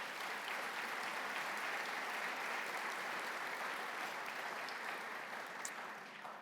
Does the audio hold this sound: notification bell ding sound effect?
no